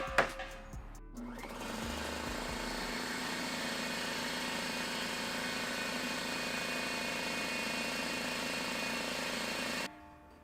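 A 15-gallon portable air compressor with a 1.6 horsepower motor runs on a power station: a click and brief startup clatter, then a loud, steady mechanical drone with a tonal hum for about eight seconds before it cuts off.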